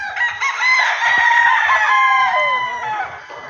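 A young rooster (stag) at a game farm crows once, close and loud, in a long wavering call lasting about three seconds, with faint clucks below.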